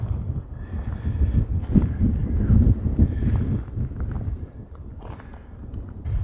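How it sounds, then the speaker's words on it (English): Wind gusts across a campsite at Vedauwoo, a low rumbling buffet against the microphone that swells and eases, with faint rustles and knocks underneath. "So it's getting windier"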